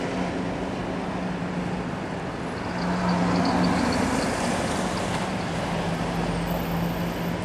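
A number 47 marshrutka minibus pulls away and drives along a city street in Zhytomyr, a steady broadband engine and road rumble with a low drone, rising slightly in the middle, and no voices.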